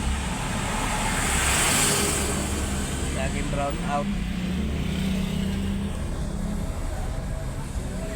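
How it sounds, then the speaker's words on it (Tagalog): Steady road traffic in Lipa, Batangas, a continuous broad rumble of passing cars and motorcycles, with a person talking over it. "Traffic na naman."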